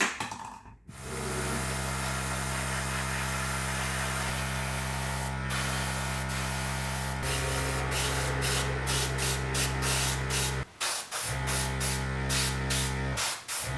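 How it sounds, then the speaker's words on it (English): An airbrush sprays white paint over small scale human figures, a steady close hiss running almost continuously, with a few brief pauses and short bursts near the end. "I first applied a coat of white on the whole thing, using an airbrush"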